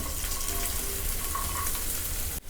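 Continuous crackling sizzle of onions, cumin, green chili and curry leaves frying in hot oil, steady and close, with a brief clatter at the very end.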